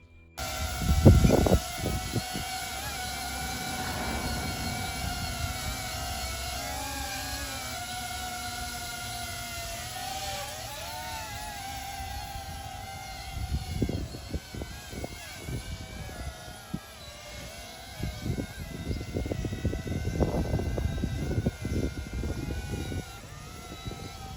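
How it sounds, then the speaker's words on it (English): DJI Avata 2 FPV drone in flight, a steady high-pitched propeller whine that wavers in pitch as it maneuvers, with bursts of wind buffeting and rumble at the start and in the later half. "now let's hear the actual sound of the FPV drone in action."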